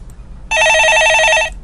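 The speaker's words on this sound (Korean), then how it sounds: "예, 전화 받아보겠습니다." A telephone rings once in a studio, a single loud electronic trill burst lasting about a second, alone against a quiet background.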